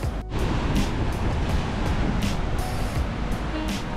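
Ocean waves crash and spray on the shore of Oahu, Hawaii, in rain, a dense, loud, continuous wash of surf with a brief dip near the start and bursts of hiss throughout.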